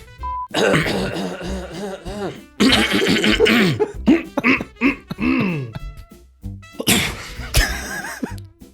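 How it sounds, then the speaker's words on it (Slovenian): A person coughing hard indoors, repeated bursts of harsh throat-clearing coughs in clusters, loud and close, with laughter and talk from others in between. "Tok sem fej kašljal, da sem mogel zares kašljati"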